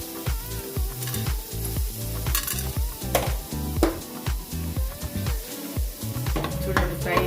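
Spices sizzle steadily in hot oil in a pan for a South Indian stuffed brinjal curry, with repeated rhythmic scrapes and clinks of a spoon stirring close by.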